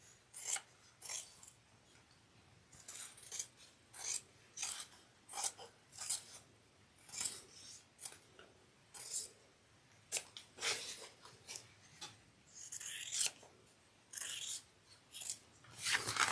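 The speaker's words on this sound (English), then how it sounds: "Trimming the pocket down to 1/8 of an inch" Scissors snip through fabric, trimming a sewn pocket down close to the seam while making a cross-body fold-over bag; a steady run of crisp, close cuts with short pauses, no talking.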